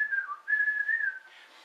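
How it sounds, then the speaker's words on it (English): A person whistles a short wavering tune alone, clear and close, with a brief dip between two sustained notes before trailing off softly. "when I can whistle again, then you'll know I'm healed"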